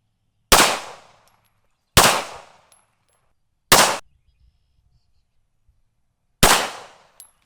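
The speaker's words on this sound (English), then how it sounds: "Let's shoot this thing." Four single shots from a Rock Island Armory M1A1 1911 9mm pistol, each a sharp, loud crack with a brief decay, spaced irregularly over several seconds with silence between them.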